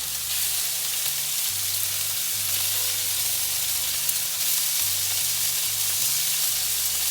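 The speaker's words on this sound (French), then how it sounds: "Et ensuite faire cuire légèrement les légumes." Vegetables sauté in oil in a pan, a steady broad sizzle holding evenly from start to finish, close and loud with a faint low hum underneath and no voices.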